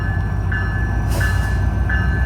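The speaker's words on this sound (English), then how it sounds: "here comes the MARC train" A MARC commuter train rumbles steadily through Monocacy station, loud and close, with a sustained high tone and a burst of hiss partway through.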